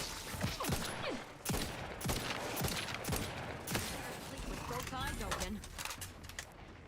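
Gunfire during a fight against spiders in the video game The Outer Worlds 2, with rapid bursts of shots in quick succession over game noise and talking.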